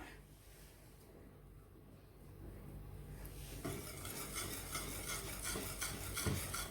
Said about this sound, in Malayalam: ഇതിലേക്ക് നമുക്ക് മൈദപ്പൊടി കുറേശ്ശെ ചേർത്തിട്ട് ഇളക്കി നോക്കാം